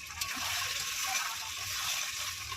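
Boiled mutton stock pours into a pan of meat being cooked for mutton jhol, a steady watery splashing and sloshing that runs close and continuous without a break.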